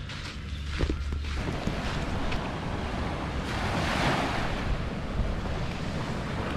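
Waves wash steadily onto a beach at sunrise on Thulusdhoo Island in the Maldives, a continuous surf roar with gusts of wind buffeting the microphone.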